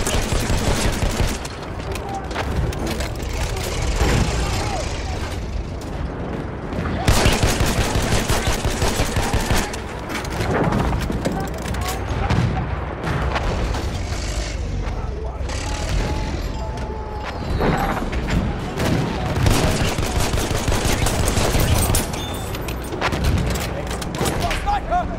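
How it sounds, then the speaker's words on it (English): Dense machine gun fire and gunshots rattle in Battlefield 1 on the Monte Grappa operation, a continuous loud battle fusillade with mechanical clatter, voices shouting beneath. "Machine gun over there."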